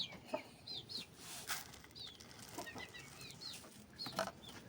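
Chickens cluck and chirp softly around a backyard pet coop, with brief bursts of wing flapping and rustling in a faint, close, busy scene.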